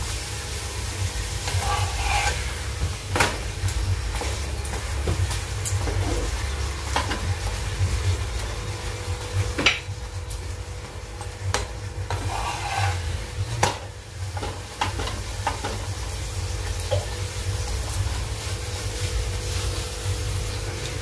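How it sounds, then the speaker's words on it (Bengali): Drumstick (moringa) parathas fry slowly in oil in a kadai over a low gas flame, giving a steady, moderate sizzle throughout with occasional soft scrapes and clinks of a utensil. "গ্যাসটা সিম করে আমি আস্তে আস্তে ভেজে নিচ্ছি।"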